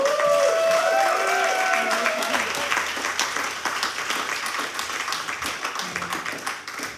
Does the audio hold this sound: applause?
yes